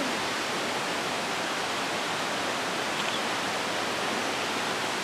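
Barron Falls rushes in a constant, loud roar of falling water, steady throughout with no voices.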